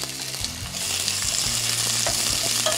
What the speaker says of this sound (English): we just want these to start sautéing a bit